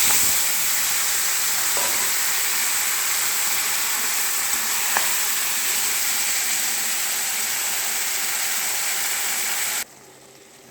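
Fish heads frying with bottle gourd in a pan, giving a steady, loud sizzle with a few faint utensil clicks, cutting off abruptly near the end.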